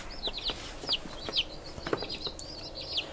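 Speckled Sussex chickens at a chicken auction, giving quiet, scattered clucks and short squawks at a moderate distance over a low background murmur.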